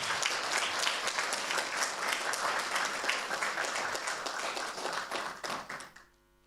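Applause from a seminar audience at a company success academy event in New Zealand, a dense burst of many hands clapping that swells, holds for several seconds, then tapers off and stops near the end.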